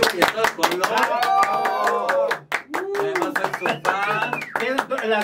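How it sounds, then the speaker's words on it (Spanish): Canned laughter and recorded applause on a Mexican comedy talk show, dense clapping bursts running throughout under loud, continuous studio speech. "Las risas y los aplausos están grabados."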